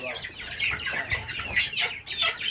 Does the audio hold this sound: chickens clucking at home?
yes